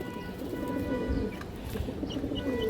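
A pigeon coos softly and repeatedly, close by, with low rumbling background noise and faint chirps, no talking.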